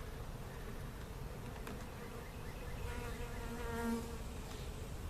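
Honey bees buzz steadily around an open nuc hive during a split, a close, continuous hum with individual bees droning louder as they pass near.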